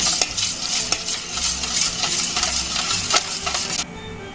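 Sugar and yeast stirred together in a bowl of lukewarm milk with a spoon, a steady close scraping and swishing with faint clinks against the bowl, alone without talk.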